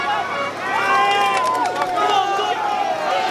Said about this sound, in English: the noise of the crowd as they come up the climb